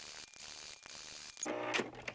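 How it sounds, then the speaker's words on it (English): A sewing machine stitches the sides of leftover fabric pieces together with a faint, quick mechanical whirring and ticking, close by and brief, with no voices. "all I'm going to do is stitch the sides together and the bottom"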